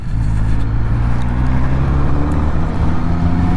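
A 2022 Kawasaki Z900RS with a four-cylinder engine runs at a steady, loud, continuous drone that stays even throughout, with no voices over it.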